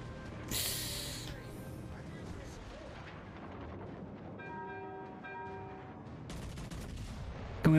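Gunshots from blind fire in a video game crack out in short bursts over game music and background noise, with a sharp shot at the start and another at the very end.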